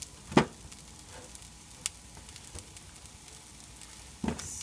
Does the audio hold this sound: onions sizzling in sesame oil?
yes